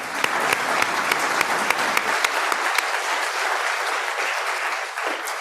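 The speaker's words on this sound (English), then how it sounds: "that round of applause" A church congregation applauds warmly, a dense, loud wave of clapping with distinct individual claps near the front that gradually thins toward the end.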